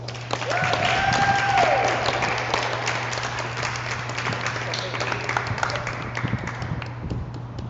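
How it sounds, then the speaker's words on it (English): An audience at a literary reading applauds warmly, with scattered hand claps swelling and then tapering over several seconds. A steady low electrical hum runs underneath, and a brief voice rises near the start. "Also, let's have a warm round of applause for Cindy Dawson."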